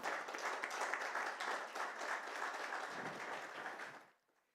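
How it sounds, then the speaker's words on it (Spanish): A church congregation gives a sustained round of applause to the Lord during a Sunday service, dense steady clapping from many hands in a room that fades out near the end. "Démosle un aplauso al Señor."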